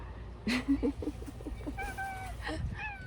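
A small cat gives a few short, close meows, slightly rising and drawn out, with quiet outdoor background noise between the calls on a hot summer morning.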